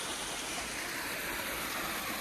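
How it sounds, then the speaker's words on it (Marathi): Waterfall in a hidden natural spot near Pune, heard as a steady, dense broadband rush of falling water that carries on without a break, fairly close and continuous. "बघा धबधबा कसा"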